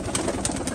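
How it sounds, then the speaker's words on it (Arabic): Close, fairly loud cooing from Iraqi pigeons kept in Europe, with repeated quick bright flutters or rustles at irregular intervals over a dense, steady bed of noise, no talking. "هذا الحمام اني عازله"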